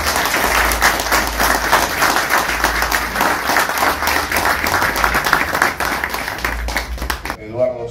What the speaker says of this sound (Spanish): pedir un aplauso para él